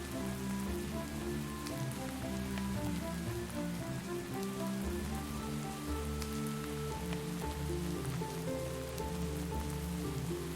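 Steady rain pattering in the Minecraft world of Mine Colonies, continuous and even over a soft background with faint tonal game music, no voices.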